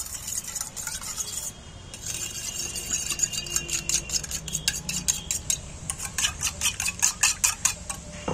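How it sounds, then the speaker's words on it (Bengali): Salt being stirred into water in a metal bowl with a spoon, a run of quick rhythmic clinks and scrapes that speeds up toward the end, close and fairly clear with faint kitchen background. "নুনটাকে জলের মধ্যে ঘেঁটে নিন।"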